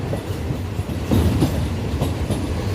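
A Bangkok Red Line electric commuter train rumbles past nearby beneath an elevated expressway, loud and steady, with a faint rhythmic clatter of wheels on the rails and no talking.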